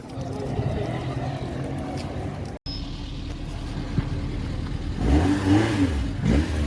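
A car engine fitted with throttle bodies revs with a rising, growling drone under crowd chatter at a car meet in Setúbal, getting louder toward the end as people talk nearby.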